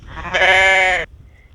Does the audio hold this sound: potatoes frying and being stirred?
no